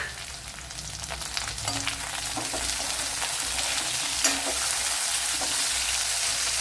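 Small onions and tomato sautéing in oil in a pan for a tamarind curry, a steady close sizzle with intermittent stirring clinks and scrapes that grows slightly fuller over time.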